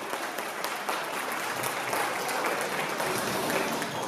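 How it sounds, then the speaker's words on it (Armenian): Steady, dense audience applause at a celebration gathering, a full crowd clapping loudly and evenly throughout with no clear break. "գեղեցկուհի Սեդա Սերյանյան ջերմ ու բարձր ծափերը"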